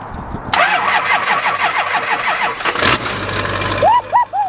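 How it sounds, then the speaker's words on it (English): A truck engine, jump-started from another vehicle's battery, cranks with a rapid whirring starter for a few seconds, then catches and roars to life loudly, settling into a rough idle close by. "hopefully they can team up and start this truck up"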